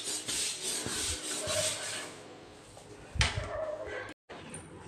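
Floor scrubbing in a bathroom, a close, rough rasping scrub in uneven back-and-forth strokes, with a brief pause near the end.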